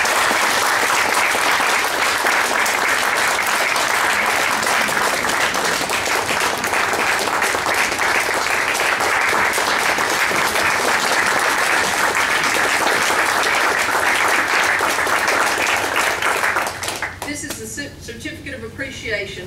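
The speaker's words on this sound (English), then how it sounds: "Let's give them a round of applause." An audience at a Lexington County Republican Party meeting applauds loudly and steadily for about seventeen seconds. The clapping then drops off, and a few scattered claps and room noise follow.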